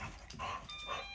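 A dog gives short barks and whimpering yips close by, with a vacuum cleaner in the home; the sounds come in brief bursts over steady background noise.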